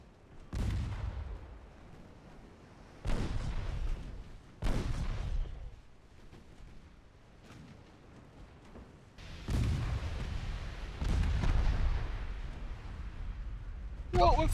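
Naval artillery fire aimed at a destroyer in the video game Ultimate Admiral Dreadnoughts, with several heavy booming salvos spaced a few seconds apart, each followed by a rumbling decay, and a voice speaking between them.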